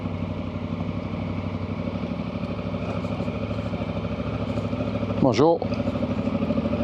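A Honda Africa Twin motorcycle rides along a road, its engine giving a steady, continuous drone from start to finish, and a voice briefly speaks a short greeting near the end.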